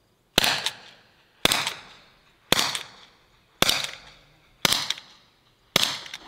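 An HDP 50 replica CO2 paintball pistol fires six sharp, loud cracks at an even pace about a second apart, each one followed by a short fading echo.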